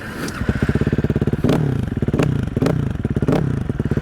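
A Sherco 300 motorcycle engine idling and being blipped up close, a rapid pulsing single-cylinder putter with several quick throttle rises, loud and alone.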